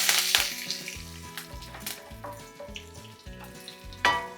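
Mustard seeds, cumin, dried red chillies and curry leaves sizzle in hot oil for a tomato chutney tempering, a steady crackling fry with a few sharp pops and metallic clinks of a pan, no voices.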